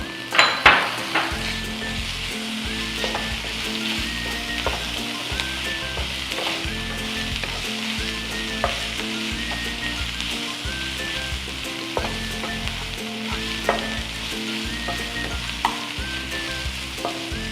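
Ginger garlic paste frying in a pan for a Kerala-style prawn roll filling, a continuous close sizzle with repeated stirring scrapes and occasional utensil clinks against the metal.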